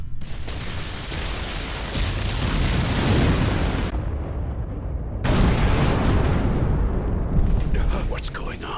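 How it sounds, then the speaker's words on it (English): Tunnels are blown up in an animated film, with loud rumbling blasts and roaring debris rolling on in heavy waves, one burst cutting off briefly before a second surge, while a voice speaks faintly beneath. "All right, Graz, blow the tunnels. Right. Initializing the explosion."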